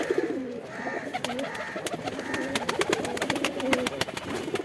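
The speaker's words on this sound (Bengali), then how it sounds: "ভয়ে ভয়ে কবুতরগুলো ছাড়লাম, কারণ কবুতরগুলোর শরীরে রোদ প্রয়োজন" Pigeons let out into the sun coo in soft, repeated rolling calls nearby, with sharp wing claps and flutters crowding in during the second half.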